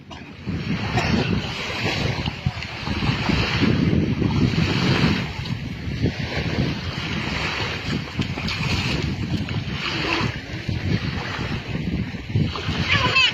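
Sea waves wash ashore at a beach under gusting wind that buffets the microphone, a steady rushing roar with people talking and calling out nearby.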